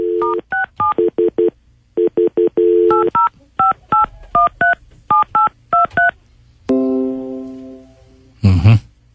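Star 67 is dialed on a telephone keypad, producing a quick series of loud, clean DTMF beeps in short groups, followed by a ringing tone and a brief clunk at the end.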